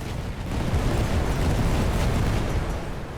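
Grenades exploding in the World War I strategy game The Great War 6.0, a sustained, dense rumble of loud overlapping blasts with no clear gaps, filling the whole stretch.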